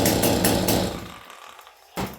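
An auction chainsaw started on full choke gives a loud, rough burst of engine noise that quickly dies away to near silence, followed by a brief sharp pull or sputter at the end.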